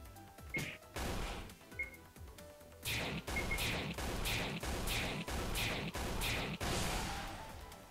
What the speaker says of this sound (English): Nice critical hit